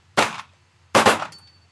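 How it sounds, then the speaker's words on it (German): Two pistol shots at a customs officers' shooting training at Hamburg Airport, fired about three-quarters of a second apart, each a loud sharp crack with a short ringing tail. "Auf Kommando Go hätte ich gerne 2 Schuss in die linke B-Zone."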